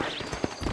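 Horse hooves clip-clopping in Red Dead Redemption, a short burst of close, quick hoof falls without speech.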